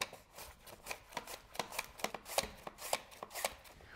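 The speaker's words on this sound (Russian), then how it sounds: "Все, нарезаем картофель." Rapid, irregular knife chops on a cutting board as potatoes are sliced about 2 mm thick for a gratin, crisp close-up taps with no talking.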